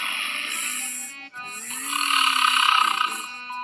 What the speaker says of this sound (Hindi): जंगल के राजा शेर महाराज अपनी गुफा के बाहर खर्राटे मारते हुए सो रहे थे